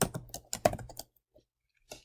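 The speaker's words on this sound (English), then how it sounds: "I'm going to start typing the word median" Quick bursts of keystrokes on a computer keyboard while entering a spreadsheet formula in Google Sheets, close and clear, with a short pause before a final cluster of taps.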